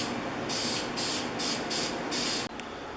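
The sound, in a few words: spraying clear coat on a Stanley No. 113 plane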